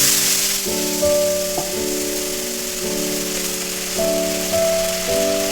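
Spice paste hits hot oil in a pan for a Bengali fish curry with yardlong beans and potatoes, giving a steady, loud hiss and sizzle, while a sustained musical tone plays underneath.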